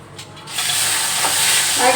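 Green chillies drop into a hot frying pan and start a loud, steady sizzle that swells and holds, with a faint clink near the end.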